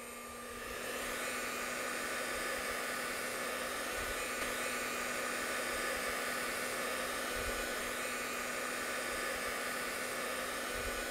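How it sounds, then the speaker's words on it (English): A hairdryer blows a steady jet of air to levitate a ping pong ball, producing a constant, even whooshing hum with a faint tonal whine that starts within the first second and holds unchanged, with no talking. "a ping pong ball being supported by a jet of air, again supplied by our hairdryer"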